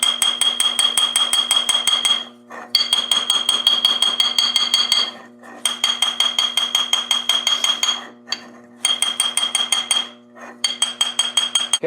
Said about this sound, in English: if I tap this down, it just continues all the way down through the can